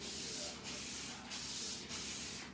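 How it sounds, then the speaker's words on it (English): Sandpaper of 100 grit scrubbed back and forth across a ski base, a close, steady raspy hiss that swells and dips with each of about four even strokes. "with the sanding, I generally just use a back and forth motion."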